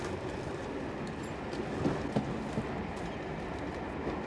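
A train travels along with a steady low rumble, a few faint clicks and clacks rising briefly over the continuous noise, heard from inside the carriage without speech.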